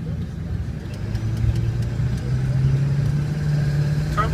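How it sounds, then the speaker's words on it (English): A 2002 Ford F550 XLT crew cab 4x4 dually diesel truck runs with a steady engine rumble and a rising whine as the turbo spools up, loud and close, over a few seconds. "Turbo spools up nice, it's got plenty of power."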